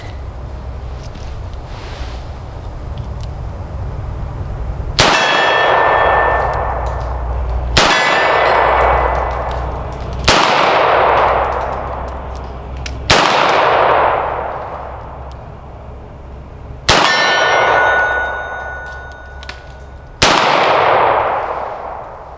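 Six loud, ringing metallic clangs from Taurus .38 Special Model 856 revolver rounds striking steel targets, spaced a few seconds apart, each with a bright decaying ring, over a low outdoor rumble.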